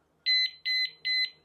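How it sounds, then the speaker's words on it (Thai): Three loud, shrill electronic alarm chirps from a motorcycle disc brake lock alarm in quick, even succession, each a sustained high tone with short gaps between. "ถ้าหากว่ารถของเรามีกา รขยับนะครับตัวกุญแจก็จะเริ่มส่งเสียงดังนะครับ"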